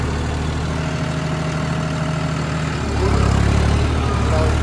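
A tractor engine runs with an old Shaktimaan rotavator attached, a loud, steady low rumble that swells louder and heavier partway through.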